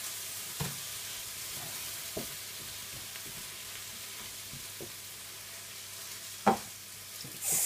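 Courgette pasta is stirred in a frying pan to melt the cheese through, giving a low steady sizzle with occasional soft scrapes and clicks of the utensil against the pan, quiet and close.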